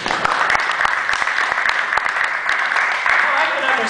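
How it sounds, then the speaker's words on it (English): Audience applause after a vanishing bottle magic trick, dense steady clapping that holds at even loudness through the whole stretch, with scattered sharper claps on top and a few voices mixed in. "Round of applause"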